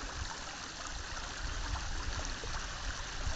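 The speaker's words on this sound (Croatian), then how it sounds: "Ovo su vam prirodni izvori, prirodne vode" Natural spring water flows in a steady, soft, continuous wash, moderately close and alone, with no talking.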